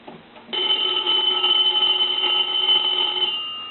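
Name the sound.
payphone bell ringing during repair test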